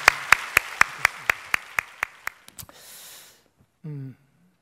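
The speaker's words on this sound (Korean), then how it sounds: "박수로 하나님 앞에 영광을 드려드리겠습니다." Church congregation at a Sunday worship service clapping in unison, about a dozen evenly spaced sharp claps that taper off, followed by a brief hiss and a short vocal sound.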